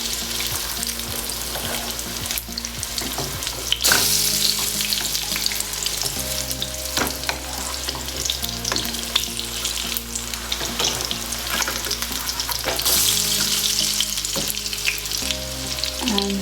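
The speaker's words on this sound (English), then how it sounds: "Now I'm going to flip it." Eggplant (aubergine) slices pan-frying over medium heat after flipping, with a steady, loud sizzle and crackle throughout, steady bright hiss and occasional pops, no talking.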